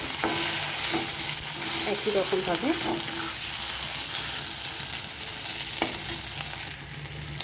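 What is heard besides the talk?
potatoes frying with ginger in a pan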